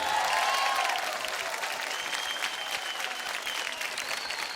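Audience applause at a fair talent contest, loud sustained clapping from a large crowd lasting throughout, steady and dense with no talk over it.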